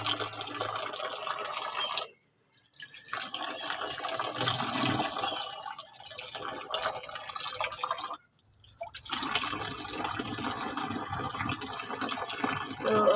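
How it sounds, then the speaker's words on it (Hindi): Running water splashes and drips as someone washes their face, a steady trickling stream broken by two brief quiet pauses, close and fairly loud. "मुँह को पानी वानी लगा लिया है"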